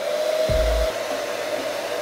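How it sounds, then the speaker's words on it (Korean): A hair dryer running on its low setting indoors gives a steady whirring hum, with a short low thump about half a second in, and no voices. "드라이기를 로우로 켜고"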